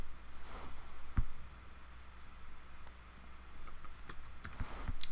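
Scattered keystrokes tap on a computer keyboard while a search is typed into a Fedora 24 beta desktop, faint close clicks spread unevenly over a quiet background hum.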